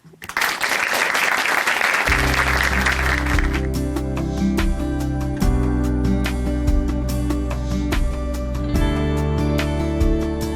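A church audience applauds to welcome a speaker, loud dense clapping at first. Within seconds, sustained music rises and then carries on under the fading applause.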